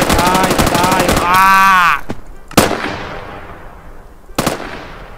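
Gunfire from a lucky block gun in the video game Minecraft: a rapid automatic burst at first, then a few separate loud shots ringing out with decaying tails, close and punchy.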